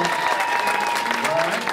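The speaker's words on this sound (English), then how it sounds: "give him a big round of applause" Audience at a private country music showcase applauding a performer's birthday, a steady crowd clap with cheering and overlapping voices mixed in, dense and close throughout.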